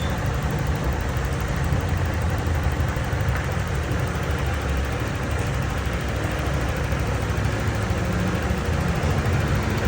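A Yamaha Aerox v2 scooter engine idles after its ISC was replaced, a loud, steady, unbroken drone recorded close with no voices over it.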